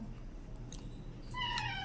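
A cat sitting on a toilet window lets out a single short, faint meow near the end, after quiet room background.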